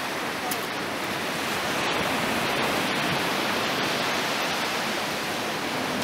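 Waves from the Black Sea wash steadily onto the shore in a continuous broadband surf roar, fairly close and even in level, with no voices over it.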